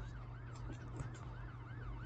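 A police car siren in the video game Brookhaven RP wails in a steady rising-and-falling cycle, repeating several times at moderate volume over low engine rumble.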